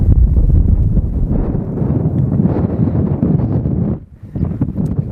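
Strong wind buffets the microphone on high ground at Red Lake China Clay Works, Dartmoor, in a loud, continuous rumble that briefly eases near the end before gusting again.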